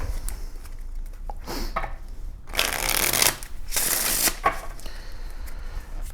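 A tarot deck is shuffled for a clarifier draw: soft card handling, then two distinct riffling bursts of flapping cards, close and crisp, with quieter rustling around them.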